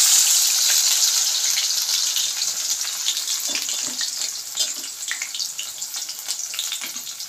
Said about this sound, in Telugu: ఇప్పుడు ఇవి కొంచెం కొంచెంగా ఫ్రై చేసుకొని పక్కన పెట్టుకోవాలి